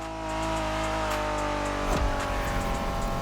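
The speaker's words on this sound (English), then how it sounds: "Are you familiar with the Honda you're driving?" A 1990s Honda NSX sports car driven in the racing game The Crew Motorfest, its engine holding a steady, loud tone with harmonic whine, then a brief shift or thump near two seconds before it carries on.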